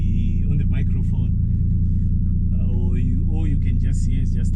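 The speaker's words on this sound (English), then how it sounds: "you can just hear just the sound of the exhaust" Toyota Supra exhaust giving a constant heavy low rumble from inside the cab, with someone talking over it throughout.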